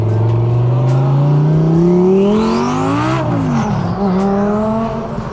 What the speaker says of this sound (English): Moment y'all been waiting for, the twin turbo R8.